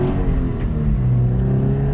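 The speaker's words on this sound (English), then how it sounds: "short shift, second gear, just gonna let the revs climb, shift, very nice" A 2019 Subaru BRZ Series Gray sports car pulls hard in second gear, its engine note climbing steadily in pitch as the revs rise, loud and close with no voices over it.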